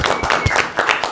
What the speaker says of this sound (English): A big round of applause for Lee.